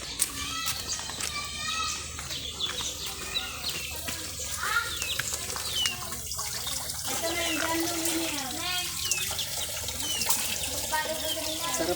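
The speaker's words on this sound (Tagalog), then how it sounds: "Ito po yung kahanga-hangang tubig" Cold spring water pours steadily from a cemented spring in a village barangay, a continuous splashing flow close by, with children's voices and birds around and people talking over it.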